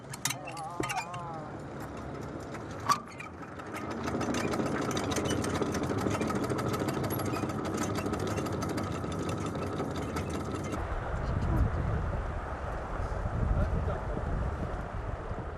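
A ferry boat motor runs steadily on a Yellow River crossing to a sandy bank, a continuous engine drone with wind buffeting the microphone, starting after a brief knock and holding loud to the end, with faint voices early on.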